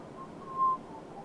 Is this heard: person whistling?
yes